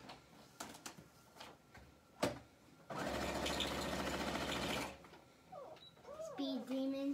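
A sewing machine runs fast for about two seconds, stitching a zigzag on a pillowcase, with a steady close buzzing whir, while children chatter before and after it.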